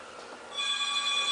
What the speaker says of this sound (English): let me grab the phone